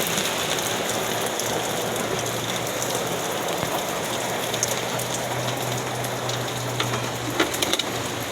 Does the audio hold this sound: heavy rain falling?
yes